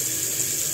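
A brief, steady hiss of cold water runs from a kitchen sink tap as the sink fills for rinsing homemade butter, with no voices.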